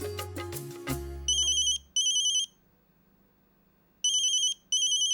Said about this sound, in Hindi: ये इतनी रात को किसका फोन आया?